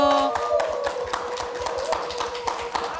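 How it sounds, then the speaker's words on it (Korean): An audience on a Korean KBS TV show claps to welcome guests, a quick, fairly close run of hand claps with brief tapping peaks and no talk over it. "박수로 맞아주십시오."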